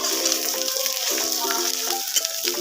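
Fish curry ingredients with turmeric powder being stirred in a hot pan, a continuous close frying hiss with occasional utensil scrapes, and no one talking.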